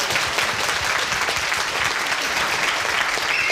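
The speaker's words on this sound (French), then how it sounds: "Applaudissements." Steady, dense applause from a convention audience, a crowd clapping loudly and evenly for a few seconds with no voices over it.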